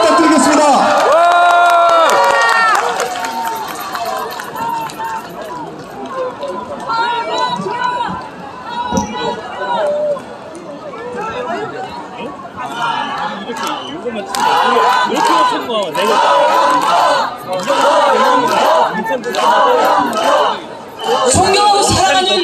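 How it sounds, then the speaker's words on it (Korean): Crowd at an outdoor political campaign rally near a subway station in Gangseo, Seoul, cheering and applauding loudly as politicians are brought onstage, with shouts and voices mixed into a dense, sustained roar. "큰 박수 부탁드리겠습니다."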